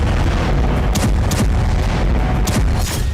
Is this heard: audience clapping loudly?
no